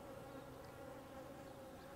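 Honey bees on a brood frame lifted from a hive give a steady, dense buzzing drone, even and unbroken throughout, with no voices over it.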